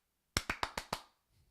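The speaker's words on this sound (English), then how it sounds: "I don't know why I did the Steve Miller claps" Five sharp hand claps in a quick, even rhythm, close and crisp, each decaying briefly before the next, followed by faint low rumble afterward.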